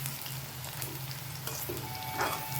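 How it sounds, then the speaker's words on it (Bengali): Spinach pakoras frying in hot oil, a steady close sizzle with a low bubbling hum, continuous throughout with a brighter crackle swelling near the end. "এইভাবে উল্টে পাল্টে লাল লাল করে ভেজে নেব।"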